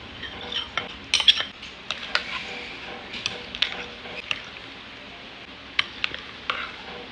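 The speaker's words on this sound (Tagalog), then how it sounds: "Sa egg whites, ikakat lang natin to into small squares" A utensil cuts cooked egg whites into small squares for Japanese egg sando, making scattered light taps and clicks against a dish or board at an uneven pace, close by with no talk.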